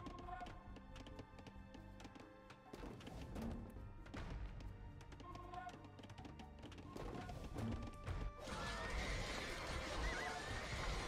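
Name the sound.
horses neighing in video game Age of Empires 2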